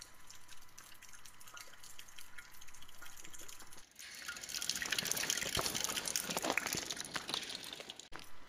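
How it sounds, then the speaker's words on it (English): Water drains and drips from a leaking roof inside an abandoned Tesco store, first as a faint trickle and then as a louder, splashing, gushing flow with scattered drips, heard alone without talk. "Here you can see the water draining down from the roof."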